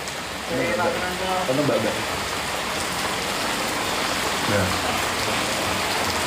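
Rain falls steadily in a dense, even hiss, with brief voices chatting over it near the start and middle.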